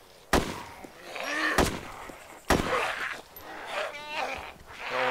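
Three sharp gunshots ring out, spaced over a few seconds, as a player shoots zombies in the survival game DayZ, with ambient game noise and a brief warbling call between them.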